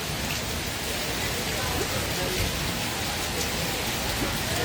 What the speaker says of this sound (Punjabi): ਸੀਜ਼ਨ ਦੀ ਪਹਿਲੀ ਭਾਰੀ ਬਰਸਾਤ ਹੈ ਜਿਹੜੀ ਸੁਨਾਮ ਦੇ ਵਿੱਚ ਹੋਈ ਹੈ ਅੱਜ